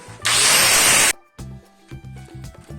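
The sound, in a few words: angle grinder rounding wooden board edges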